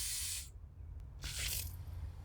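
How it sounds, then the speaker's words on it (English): A Scotts Professional Sprayer set to cone lets out a fine misting spray in two short hissing bursts separated by a brief pause, close and fairly loud. "So this is more like a fine spray."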